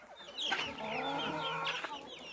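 Chickens cluck inside a farmyard shed where around forty birds and young chicks are kept, giving a couple of close, bright calls over a steady low murmur of hens.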